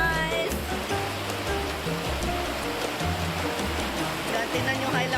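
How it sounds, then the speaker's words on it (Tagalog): Heavy rain pours steadily outside a bamboo hut, a dense, constant rushing hiss that sounds close and loud, with low voices murmuring faintly beneath it. "lakas ng ulan, guys."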